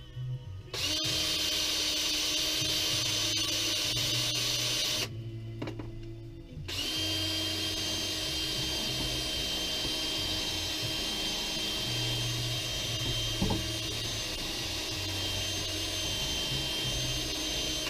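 A power buffer with black compound polishes aluminum rocker boxes from a Harley Sportster, giving a steady high motor whine with a gritty rubbing drone, interrupted by a short pause about a third of the way in before resuming.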